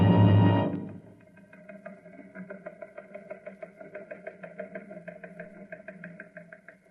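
A recon car engine from a radio drama sound effect starts with a loud burst, then settles into a faint, rhythmic chugging idle with regular pulses that continue steadily to the end.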